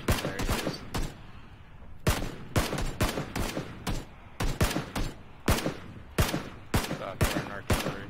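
Gunfire in the battle game PUBG, with sharp shots cracking out in uneven bursts and single reports over about eight seconds, some close and loud, with no talk.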